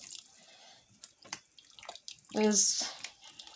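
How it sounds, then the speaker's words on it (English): Water is poured into a vegan masa mix for pasteles, rising into a splashing burst about two-thirds through, with a speaking voice before and around it. "I'm going to add about 2 cups of water"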